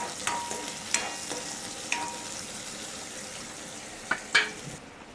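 Chopped onions and fennel seeds frying in a pan, a soft steady sizzle with a few faint clicks of stirring, close and quiet, with no voices.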